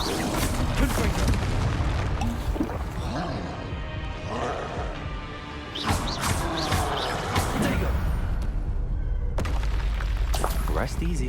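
In the Hogwarts Legacy video game, Confringo spell blasts go off as heavy booming bursts with sharp onsets, landing between stretches of busy combat noise and game voices.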